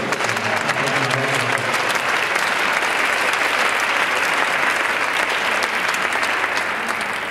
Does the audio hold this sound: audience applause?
yes